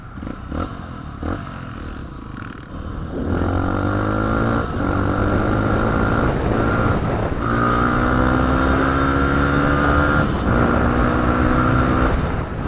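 A Honda CRF150L motorcycle fitted with an Exos R6 aftermarket exhaust, riding past with a steady, loud engine drone that rises and falls through gear changes, continuous and close for most of the clip after a quieter start.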